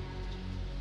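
Steady, dense rain falls in a horror film scene, a continuous even hiss of downpour heard up close with no voices.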